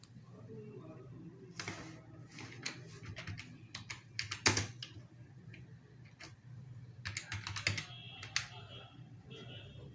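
Fingers type a name on a computer keyboard during a Windows 10 installation, producing irregular bursts of quick, light key clicks over a low steady background hum.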